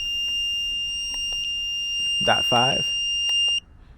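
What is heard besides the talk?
brake fluid tester beeping alarm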